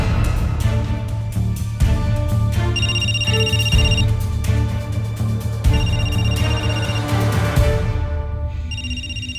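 A phone rings over and over during a call in GTA 5, a loud electronic ringtone in regular bursts over a low steady background.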